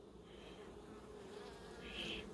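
Honeybees buzz steadily at an opened hive during a hive inspection, a soft continuous drone with a faint rise near the end, no voices.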